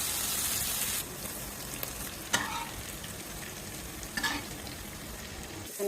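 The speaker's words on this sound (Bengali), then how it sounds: "এক পাশে এই যে চিংড়ি মাছ ভাজছি" Prawns frying in a pan, a steady dense sizzle with occasional sharper crackles and stirring scrapes, close and continuous with no talking.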